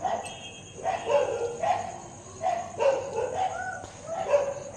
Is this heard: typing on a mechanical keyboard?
no